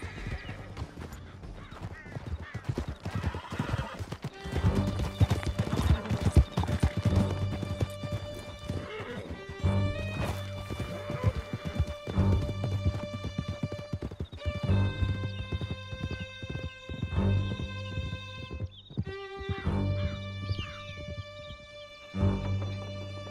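Horses galloping in the video game Red Dead Redemption II: rapid continuous hoofbeats with whinnies, set against a sustained tonal game soundtrack throughout.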